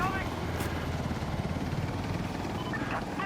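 Steady whirring rotor drone of a helicopter in the shooter game Insurgency Sandstorm, a continuous low thrumming wash that holds evenly throughout the short stretch without breaks.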